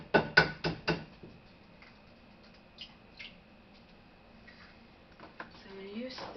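Construction banging in an apartment building: a quick run of four loud knocks at the start, then scattered fainter thuds and taps in the background.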